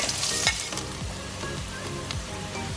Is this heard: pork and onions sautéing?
yes